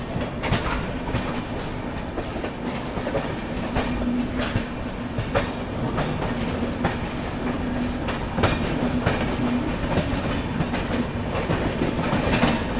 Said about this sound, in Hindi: चलिए निकल गई ट्रेन।